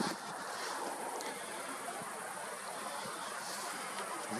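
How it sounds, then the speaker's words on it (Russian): Steady broadband wind noise buffets the microphone outdoors during telescope viewing, a continuous rushing roar with no other distinct sounds. "ветер поднялся"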